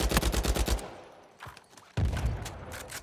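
Rapid gunfire in Uncharted 4 multiplayer: a fast automatic burst of close, sharp shots, a short lull, then another sustained volley of loud reports.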